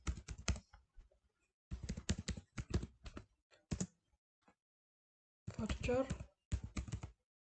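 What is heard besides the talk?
typing data on a computer keyboard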